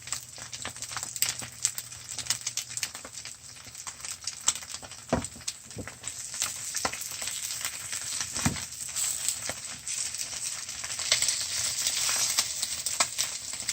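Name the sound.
over-easy eggs frying in a pan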